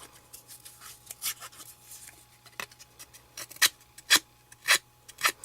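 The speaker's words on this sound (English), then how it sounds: "I'm going to use my scissors on the other side to distress the paper." Scissors blades scrape along a paper edge to distress it, giving a series of short, crisp rasping strokes in an uneven rhythm that grow louder and sharper toward the end, close up with no talking.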